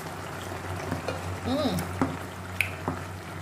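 Salted dried tilapia cooking in a pot, with a low steady simmer and sizzle and a few light clinks of a utensil against the pot, while a voice speaks faintly now and then.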